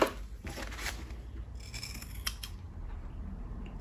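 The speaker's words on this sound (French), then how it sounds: "on va venir couper le haut et le bas de notre marge" Scissors trim the fabric seam allowance on a sewn zipper pouch. Several close, crisp snips and sliding blade sounds are heard alone, with no talking.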